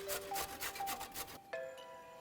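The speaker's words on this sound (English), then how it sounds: "I'm going to actually use my grater on here" Beets rubbed across a hand grater in a kitchen while making Guatemalan enchiladas, a close series of rhythmic rasping strokes, roughly six or seven, that stop abruptly and leave faint tonal ringing.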